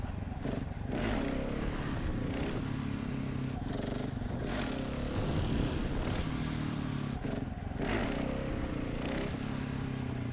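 A motorcycle engine running under throttle while the rider holds a wheelie, a continuous close drone with brief rising rev bursts and some clattering.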